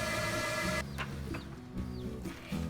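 Poultry chicks in a barn, a sustained chorus of high cheeping that drops away partway, leaving scattered peeps and short chirps over a low, steady barn hum.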